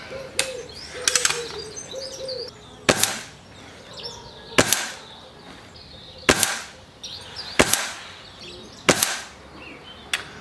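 An Air Arms TX200 Ultimate springer air rifle fires JSB 10.34 grain pellets, six loud sharp cracks spaced about one to two seconds apart, with birds calling faintly outdoors in between.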